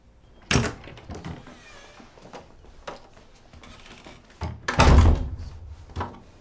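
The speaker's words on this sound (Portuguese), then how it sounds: "Bloqueei a porta." Door being shut and locked in a horror video game, a heavy thud at the start, faint creaks and mechanical rattles, then a louder booming slam and clunk of the lock near the end, with no speech.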